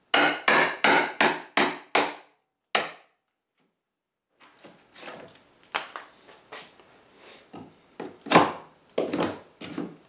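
Chisel strikes on wood while building a chicken coop nesting box lid: a quick run of six sharp, evenly spaced knocks, a lone blow after a pause, then quieter scraping and irregular taps ending in a few louder hits.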